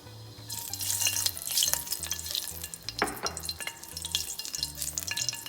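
Whole spices, cinnamon, cardamom and cloves, frying in hot oil for a prawn curry: a bright sizzle and crackle up close, with spoon stirring and scraping against the pan, and no talking.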